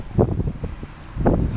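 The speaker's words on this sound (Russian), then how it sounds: "дует как раз со стороны гор, то есть подниматься еще тяжелее" Wind blows down from the mountains in strong gusts that rumble and buffet against the microphone, two louder bursts rising out of a continuous low roar.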